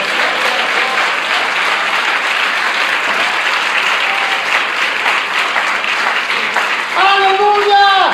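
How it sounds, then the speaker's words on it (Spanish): A church congregation applauds and calls out praises during a sermon, a full wash of clapping mixed with crowd voices, then a sustained sung or shouted tone rises near the end. "Fuertes alabanzas y aplausos."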